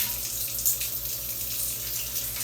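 Warm water pours steadily into a container while a low-carb, high-protein frozen treat is being mixed, a close, continuous splashing stream with no talk.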